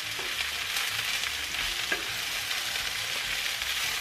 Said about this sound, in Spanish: Vamos a dejar que se sofrían durante unos minutos,